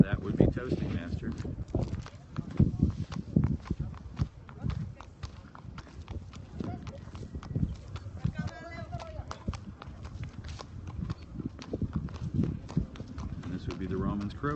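Hooves clop in a quick, steady rhythm as a horse moves at a stable, with people talking over the hoofbeats throughout.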